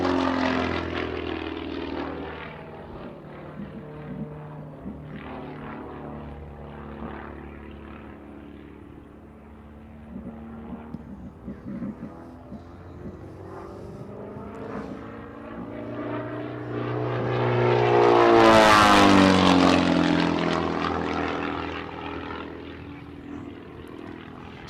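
A Pitts S1 aerobatic biplane's propeller engine drones steadily through an inverted avalanche maneuver at an air show, swelling loudly as it passes close around the twenty-second mark before fading again.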